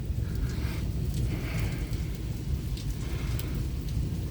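Heavy rain pours steadily during a Michigan thunderstorm, a dense close wash of drops hitting surfaces throughout, with low rumbling thunder underneath and no voices.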